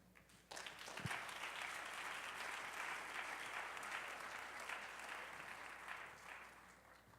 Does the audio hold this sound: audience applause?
yes